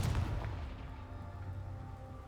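A Confringo fire spell blasts in the video game Hogwarts Legacy, a heavy boom that rumbles and fades over a couple of seconds, loud and close with no talking.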